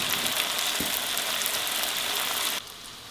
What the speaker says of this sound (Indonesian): Kita menggoreng pangsitnya ya teman-teman.